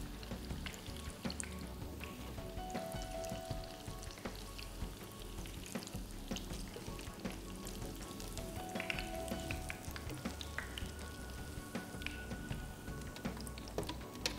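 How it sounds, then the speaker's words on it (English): Oil sizzles and crackles steadily as cauliflower fritters fry, a faint continuous spitting with occasional brief pops. "It's frying really well."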